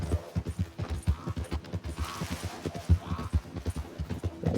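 Horse hooves clip-clop in a steady, brisk trotting rhythm on a road in Red Dead Redemption 2, close and evenly paced with faint game ambience underneath.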